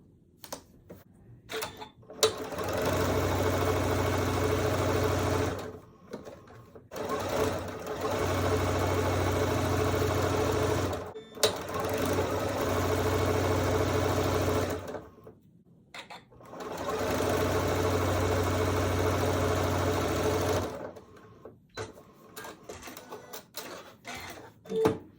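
Sewing machine chain piecing fabric for a quilt block, running in four long, steady bursts of rapid stitching, separated by short pauses and small handling clicks, close and clear.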